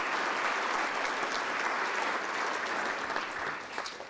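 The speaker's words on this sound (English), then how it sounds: "Let's give Bill Walden a round of applause too." Steady, dense applause from a sizable crowd, sustained throughout and tapering slightly at the end.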